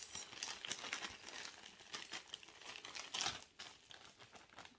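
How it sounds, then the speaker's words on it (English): Jewelry is packed into plastic bubble wrap and bags with close, continuous crinkling and rustling of plastic in quick irregular bursts, and no voices. "I just put the jewelry in the bubble pack and then put it back in the individual plastic bags"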